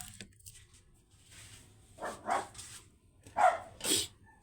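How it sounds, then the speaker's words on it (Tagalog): A dog barks a few times in short bursts, two quick barks then another pair, fairly close, with a low hum in the background, in the morning. "Ayun, nagtahol-tahol naman si Mabi girl."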